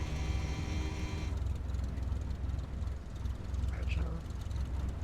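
A Cessna 172 light aircraft engine running steadily after landing, a continuous propeller drone heard from inside the cockpit, with a higher whine fading early and a pilot's voice faintly over the engine.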